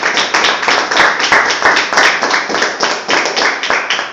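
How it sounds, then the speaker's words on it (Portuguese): A church congregation claps in unison, a loud and close run of sharp, rhythmic claps forming a sustained round of applause. "E nós vamos dar uma linda salva de palmas para Jesus"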